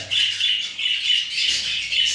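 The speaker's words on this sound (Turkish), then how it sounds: "Muhabbet kuşlarımız da cıvıl cıvıl yine maşallah." Pet budgerigars chirp in quick, high twittering bursts, several overlapping calls rising and falling in a lively pulsing rhythm, close and clear with no talking.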